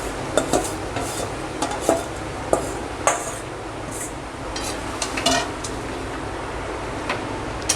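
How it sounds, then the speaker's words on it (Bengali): Chicken pieces stirred in a pan with fried masala, tomato and onion, a low continuous sizzle broken by repeated sharp clinks and scrapes of a spoon against the metal pan. "চিকেনটা দিয়ে আমি নেড়ে চেড়ে একটু ঢাকা দিয়ে দেব।"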